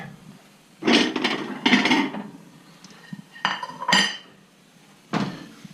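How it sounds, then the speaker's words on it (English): A plate taken out from among other dishes, with several clinks and clatters of crockery knocking together, close by and irregular. "I'm gonna get out my plate."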